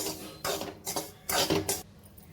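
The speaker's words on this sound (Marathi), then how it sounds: "भगरीचा रवा भाजत आलेला आहे" Barnyard millet rava being dry-roasted in a pan, heard as several bursts of scraping and clinking as a utensil stirs the grains against the metal, fairly quiet and close.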